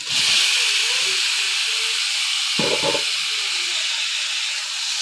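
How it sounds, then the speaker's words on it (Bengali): Lote fish go into a pan of sizzling, fried-down spice paste, giving a loud steady hiss throughout with a brief clatter of stirring near the middle. "মশলাটা কষে গেছে এবার আমি মাছগুলোকে দিয়ে দেব"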